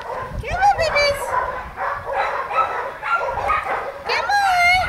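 Puppies yipping, whimpering and barking in short, lively bursts close by during play, mixed with a person calling to them.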